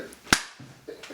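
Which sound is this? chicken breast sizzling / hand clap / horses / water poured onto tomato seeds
hand clap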